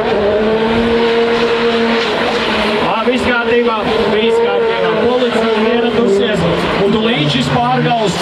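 A BMW X5 doing a tire-burning burnout at an event, its engine roaring and tires squealing continuously and loudly throughout, with people talking over it.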